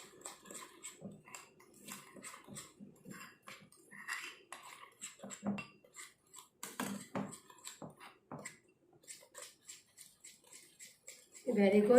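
Slime being mixed in a bowl: soft, irregular sticky squelches and scraping knocks from close by, with a person talking over much of it.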